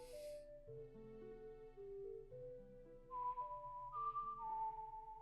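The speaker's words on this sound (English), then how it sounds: "She just whistles." A character whistles a lullaby from The Legend of Zelda: Ocarina of Time, a clear, soft melodic whistle over a quiet game music backdrop, notes held and gliding.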